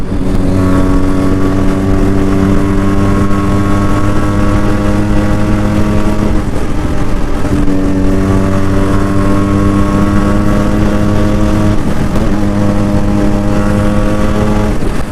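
A Yamaha RX-Z motorcycle, converted from a four-speed to a five-speed gearbox, runs loud and close with a steady, throbbing engine drone that briefly dips twice as if shifting gears, with no talking.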